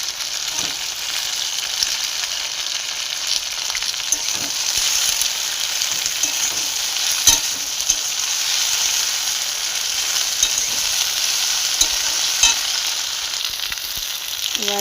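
Onions and green chillies sizzle with okra in a pan, a steady bright frying hiss with occasional soft stirring clicks, no voices over it.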